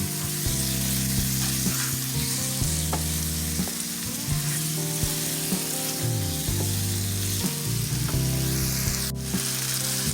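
Ground beef with bouillon and water sizzles in a pan as it is stirred through, a steady, fairly loud hiss under a constant low hum, with faint scraping strokes of the utensil.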